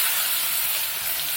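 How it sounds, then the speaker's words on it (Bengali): Eggplant frying in hot oil over a wood-fired stove, a loud, steady bright sizzle and hiss close by, with no talking. "আগে থেকে তেল দিয়ে রেখেছি, তেলটা গরম হয়েছে। এখন বেগুনগুলো ভেজে নিচ্ছি।"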